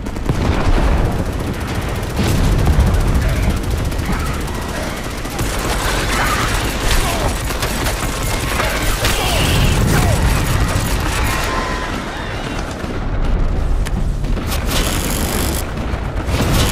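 Grenade blasts and rapid gunfire fill a battle in the Starship Troopers Extermination video game, with dense, loud bursts and booms throughout and game voices mixed in.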